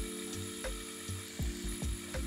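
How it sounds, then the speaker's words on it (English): A diamond wheel grinds baby teeth flat on the bottom for cabochon-style stones: repeated short bursts of gritty contact over a steady motor hum, each touch rising and fading, close and moderately loud. "I'll use a diamond wheel to accomplish the task."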